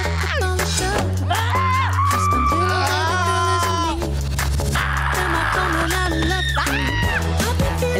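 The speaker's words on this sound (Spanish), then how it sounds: "Prepara tu mejor grito de miedo." Several people let out frightened screams, overlapping and drawn out, one after another. The shrieks are loud and close, with a crowd-like wash behind them.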